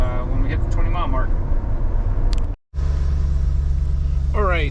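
Steady low road rumble of a car driving along a road, loud and continuous, with a brief dropout partway through and faint voices or radio sounds over it.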